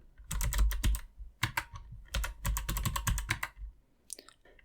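Someone types on a computer keyboard during a Debian 10 install, with bursts of quick, close keystrokes separated by short pauses and a final few taps.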